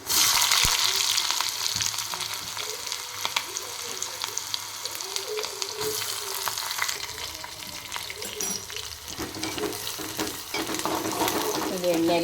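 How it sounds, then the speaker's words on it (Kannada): Curry leaves and onions hit hot oil in a pan with a loud, bursting sizzle that settles into steady frying, along with occasional stirring clinks close by. "ಈಗ ಕರಿಬೇವು ಹಾಕ್ತೀನಿ ಈಗ ಉಳ್ಳಾಗಡ್ಡೆ ಹಾಕ್ತೀನಿ"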